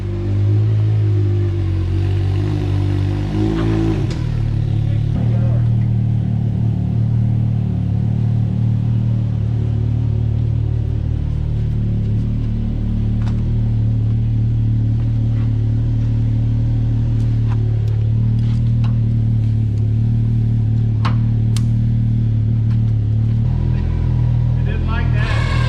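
A Ram race truck's engine idles and rumbles with a steady low drone as it drives back into a shop after washing, close and loud, with a brief rev near the start and faint clinks over the hum.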